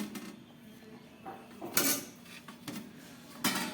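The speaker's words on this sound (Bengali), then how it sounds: "কড়াই থেকে চচ্চড়িটা আমি প্লেটে বের করে নিলাম" Cooked prawn, potato and bean chorchori curry is scraped from a wok onto a plate, with several short metallic clinks and scrapes of utensil on pan at an uneven rhythm, close up.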